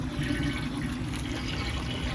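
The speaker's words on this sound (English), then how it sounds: "It sounds like the water's going through." Steady rushing and trickling of water flowing continuously through a 55-gallon filter, close up, with no other sounds.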